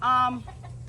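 A chicken lets out a short, loud squawking cluck up close, then trails off into quieter background noise.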